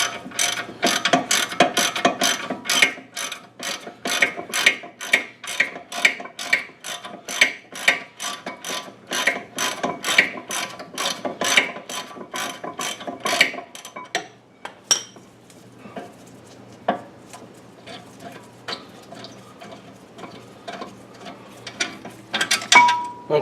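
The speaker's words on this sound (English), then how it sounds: "There's the first bolt, and then there's one more bolt here on the bottom that I'll take out." A ratchet clicks rapidly in a long even run while loosening 18 mm brake caliper bolts on a 2008 Mercedes-Benz CLS 550, close and crisp, then stops and gives way to scattered metallic clinks and handling noises.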